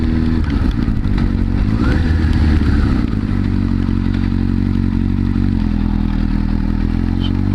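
A high-powered liter sportbike rides on a wet freeway road, its engine a steady loud drone mixed with broadband hiss and road noise, with a brief rise in pitch early on before settling into a constant roar.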